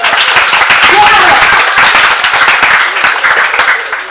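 Stand-up comedy night crowd cheering and applauding loudly, a dense continuous wash of clapping and whoops that stays steady for the whole stretch, with only a slight easing toward the end.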